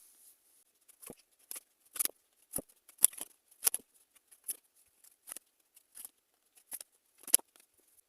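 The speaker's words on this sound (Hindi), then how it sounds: "चलिए कुछ और कार्ड्स लेते हैं, कुछ और इंफॉर्मेशन।" Tarot cards are shuffled and drawn, producing sparse, quiet, crisp flicks and snaps at irregular intervals against near silence.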